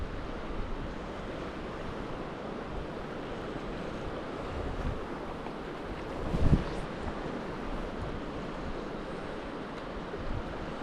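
Strong, steady wind buffets a seaside campsite at Skresanden, a constant broad roar with gusty swells and a few low thumps of wind against the microphone, with no voices.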